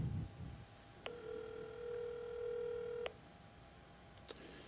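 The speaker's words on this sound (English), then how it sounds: "See if we can get Dudley on the phone live here" Phone call being dialed on speakerphone: a single steady two-tone ring signal holds for about two seconds, then cuts off, with a brief faint blip afterward over low room hiss.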